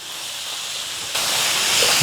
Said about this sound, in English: we want to go in with all our spices. Get all that in there. Start to stir it through.